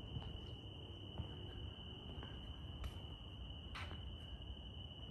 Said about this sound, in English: Just hear the crickets.